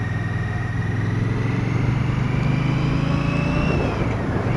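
A 2017 Victory Octane motorcycle engine drones steadily while riding on a test ride, with a strong low exhaust note and a slowly shifting pitch, heard close and continuous without speech.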